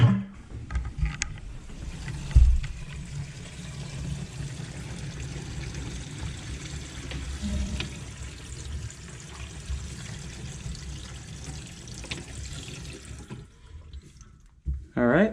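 Sink water rushing down through a newly plumbed P-trap during a leak test, a steady, continuous gush and trickle lasting many seconds before it cuts off, with faint splashes.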